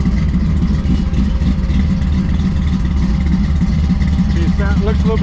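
A 1979 Ford F100 pickup with a 408 stroker engine runs on the road, a loud, steady low engine drone that fills the whole stretch without letting up.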